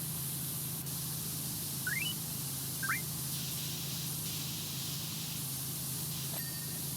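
Steady broadband spray hiss from a virtual pressure washer with a yellow nozzle in PowerWash Simulator, a continuous even wash of noise lasting throughout, fairly loud with a couple of brief chirps over it and no talk.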